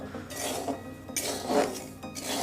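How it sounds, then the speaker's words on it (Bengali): Salt being stirred and tossed in a pan while it heats for roasting papad, giving a steady gritty scraping with light clinks of a utensil against metal, close and continuous. "নাড়াচাড়া করে ভালো রকম করে গরম করে নিতে হবে"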